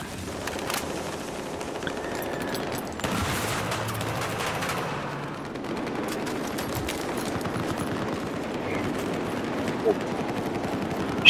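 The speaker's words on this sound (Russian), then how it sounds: "А, они уже все стреляют." Battlefield 4 gunfire: distant rapid automatic bursts and scattered shots crackle over a constant noisy game-battle backdrop, with people talking intermittently throughout.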